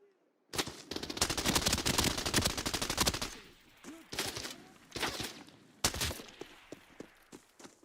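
Sniper and automatic gunfire crackle through a video game, a dense burst of rapid shots for a few seconds followed by separate loud cracks and echoing reports, with brief human reactions between.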